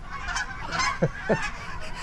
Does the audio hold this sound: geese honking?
yes